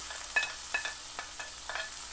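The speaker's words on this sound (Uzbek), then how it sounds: "Buni solib bir qovuramiz." Onion and garlic fry in a pan with a steady soft sizzle, broken by several short scraping stirs at an irregular pace, close by and fairly quiet, with no talking.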